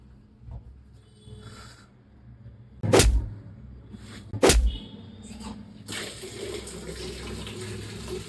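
Tap water running in a hostel washroom, a steady wash of flow with two sharp louder splashes partway through, then a broader rushing stream toward the end; no one speaks.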